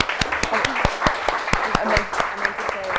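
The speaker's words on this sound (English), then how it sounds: "another massive round of applause for Susie and for Asha as well." A small audience at a talk event applauds with sparse, distinct hand claps, loose and uneven, and a voice speaks briefly over the clapping.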